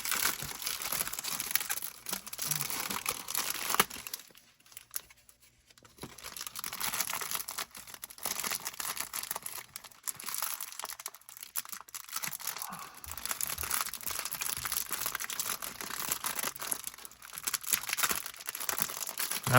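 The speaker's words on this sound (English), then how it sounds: "We got a bad tear, but we will see if we can get everything open here without having to go to the knife." A stubborn trading card pack wrapper being torn open, with close crinkling, crunching and ripping plastic that runs almost continuously, pausing briefly partway through, and no talk.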